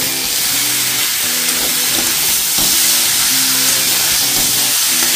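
Chopped tomato frying with pumpkin in a pan for a vegetarian dish, producing a loud, continuous close-up sizzle and hiss with occasional stirring sounds and no speech.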